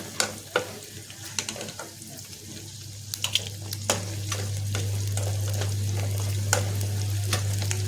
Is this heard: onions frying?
yes